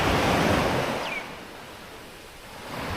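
Sea waves wash onto the shore beside a tent at Forest Beach Campsite on Koh Chang, a broad hissing surge that fades and then builds again, close and steady.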